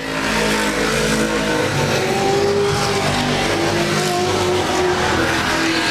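Dirt track race cars running at Laird Raceway, engines roaring loudly and continuously as cars run close together, with no voices.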